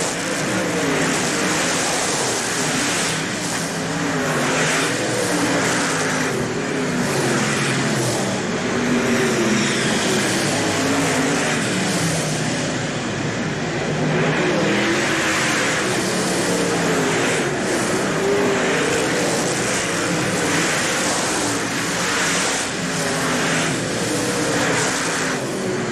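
Late model race cars roar around a dirt oval at a 1989 World of Outlaws feature in Hales Corners, a dense, continuous distant engine din with cars swelling past in waves.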